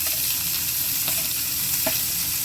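Finely chopped onion frying in hot coconut oil, a dense even sizzle that holds steady throughout, with a couple of faint stirring taps.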